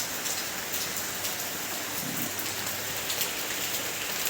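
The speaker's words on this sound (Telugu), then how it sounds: "వర్షం పడుతూనే ఉంది" Rain falling during a trip in Goa, a dense, continuous hiss of drops on surfaces that holds steady throughout at moderate volume, with no voices.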